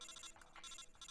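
An in-game phone call ringtone from Metal Gear Solid: Portable Ops, a quiet electronic trill pulsing in quick repeated bursts, alone without talk.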